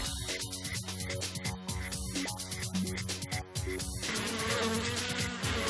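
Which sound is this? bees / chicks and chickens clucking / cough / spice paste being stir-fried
bees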